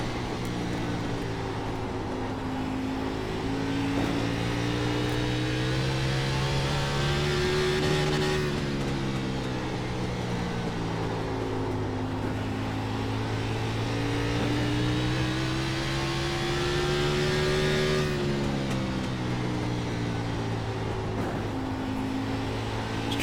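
A NASCAR Xfinity race car in the iRacing simulator at Nashville Fairgrounds keeps its engine droning at high revs, pitch rising and falling through gear and throttle changes. The engine stays loud and constant throughout, with no voices.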